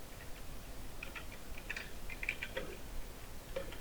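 Text being entered on a computer keyboard, with soft, irregular key clicks that are faint and close against a quiet room background.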